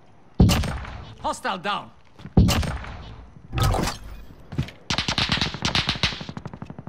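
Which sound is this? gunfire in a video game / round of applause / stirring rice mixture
gunfire in a video game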